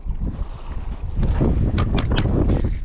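Strong wind buffets a small fishing boat out on the water, a rough, steady roar that swells with sharper gusts in the second half, loud and close with no voices.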